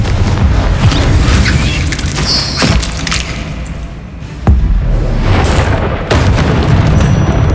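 Fiery Confringo spell blasts in the Hogwarts Legacy video game go off as several heavy booms spaced a second or two apart, each a loud thud with a crackling tail over busy in-game ambience.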